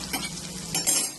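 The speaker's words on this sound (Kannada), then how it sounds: "ಹಸಿಮೆಣಸಿಕಾಯಿ ಸ್ವಲ್ಪ ಬಾಡಿಸ್ಕೋಬೇಕು." Green chilies sauté in a hot pan for a fenugreek-leaf kadubu dish, giving a short, close sizzle with a couple of louder stirring scrapes and no voices.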